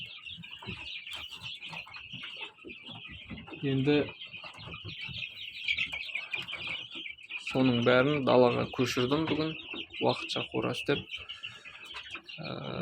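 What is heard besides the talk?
incubator-hatched chicks chirping in a coop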